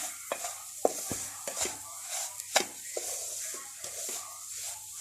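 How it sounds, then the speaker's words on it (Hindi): Semolina roasting and being stirred in a pan over a medium flame for halwa, with intermittent scraping strokes and soft knocks of the spoon over a faint, steady sizzle, close and fairly quiet. "सूजी को अच्छा सा भूनेंगे"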